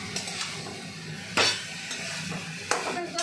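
Ingredients stirred and frying in a pan produce a steady soft sizzle broken by two sharp scrapes or clinks of a utensil against the pan, close and moderately loud, with no talking.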